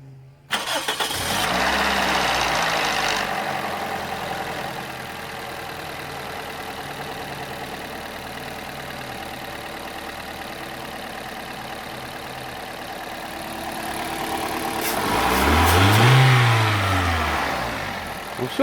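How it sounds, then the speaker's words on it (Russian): A car engine cranks and catches, settles into a steady idle for many seconds, then revs up in a smooth rising and falling swell near the end, close and fairly loud, after an injector cleaning with dimexide. "Запускаем двигатель."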